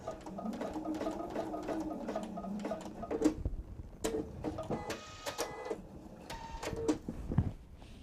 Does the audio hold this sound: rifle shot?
no